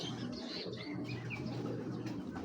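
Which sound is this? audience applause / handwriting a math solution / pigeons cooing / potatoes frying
pigeons cooing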